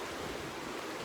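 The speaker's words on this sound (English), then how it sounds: "You can see for yourself just how the waves are coming in." Waves from Lake Erie breaking against the rocky shoreline of Middle Bass Island, Ohio, in blustery weather: a steady, loud, broadband rush of surf and wind with no distinct individual crashes and no voices.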